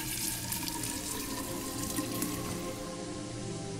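Water runs steadily from a sink tap in the video game Fran Bow, a continuous close splashing stream with no talk over it.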